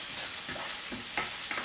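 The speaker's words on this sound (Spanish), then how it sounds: "Ya tengo la cebollita ya aquí" Onion and garlic sizzle in a hot pan in a home kitchen, a steady close frying hiss with soft stirring scrapes, alone with no talk.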